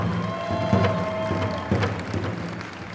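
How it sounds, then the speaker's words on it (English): Audience applause rises at the Shakopee Pow Wow exhibition at Mall of America, a dense, steady wash of clapping and crowd noise that holds fairly loud throughout, with a faint tonal whistle running beneath it. "How about a nice round of applause for Mr."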